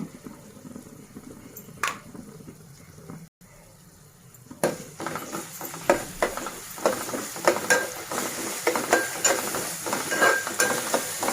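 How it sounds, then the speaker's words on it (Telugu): Onions with ginger-garlic paste sautéing in a pan for a potato and meal maker curry, a quiet stretch then a rising sizzle with repeated scraping stirs of a spoon, growing louder and busier. "ఇందులో అల్లం వెల్లిపాయ పేస్ట్ కూడా వేసుకోవచ్చు. ఉల్లిపాయతో పాటు మగ్గుతుంది ఇది కూడా."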